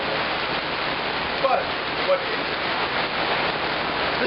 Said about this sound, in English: So it's getting windy, it's getting rainy.